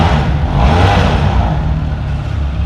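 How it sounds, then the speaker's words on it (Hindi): A 2021 Benelli TRK 502X 500 cc dual-cylinder motorcycle engine runs steadily at idle, a low throbbing rumble close by with a slight uneven pulse, no voices. "डुअल सिलेंडर इंजन है,"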